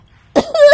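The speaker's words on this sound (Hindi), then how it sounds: "पूरे घर में मिर्च वाला तीखा धुआं फैल जाता है और सब खांसने लगते हैं।" A person coughing from pungent chili smoke filling a house, one short harsh cough followed by a strained throaty sound, close and loud.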